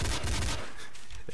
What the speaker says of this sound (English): Why'd you just shoot me?